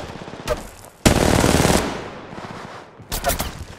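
Automatic gunfire in the mobile battle royale game Apex Legends Mobile: short bursts near the start and end framing a loud, sustained volley of rapid shots, close and dominant with no talk.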